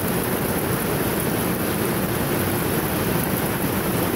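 Heavy rain pouring down outdoors, a dense, unbroken roar of drops hitting surfaces, loud and steady throughout with no pauses and no talk.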